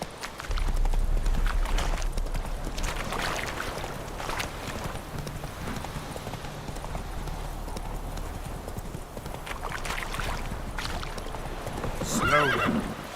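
A horse gallops with rapid, close hoofbeats in The Witcher 3, then gives a sharp neigh near the end, with quiet game ambience underneath.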